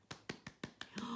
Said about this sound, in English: Give me a applaud.